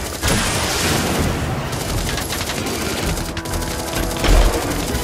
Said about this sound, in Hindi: ये देखिए इसके सर पे मैं लगातार गोलियां बरसाए जा रहा हूँ